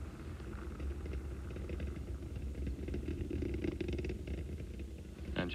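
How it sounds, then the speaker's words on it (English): Space Shuttle Atlantis's engines rumble through the STS-43 launch ascent as a steady, distant low roar with rattling texture, heard from afar with no voices. "Engines throttling down and holding well."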